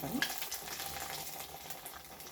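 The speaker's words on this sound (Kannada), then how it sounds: "ಎಣ್ಣೆ ಕಾದಿದೆ ಒಂದೊಂದಾಗೆ ಬಿಡೋಣ" Sabudana vada deep-fries in hot oil, a soft, steady bubbling sizzle with a brief spatter at the start, close and fairly quiet, with no speech.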